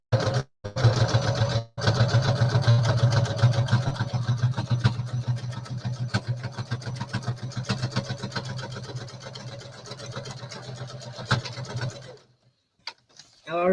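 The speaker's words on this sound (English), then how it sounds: "I just sewed 4 of those together" Sewing machine stitching quilt scraps together, a steady mechanical whir with fast rhythmic clatter running for about eleven seconds, close and fairly loud, then stopping.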